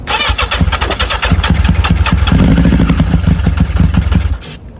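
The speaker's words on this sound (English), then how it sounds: "we're gonna try to start it" A 1985 Yamaha XJ700 four-cylinder motorcycle engine being rebuilt cranks with a loud, rapid starter chatter, then catches and runs roughly up close for several seconds before abruptly cutting out near the end.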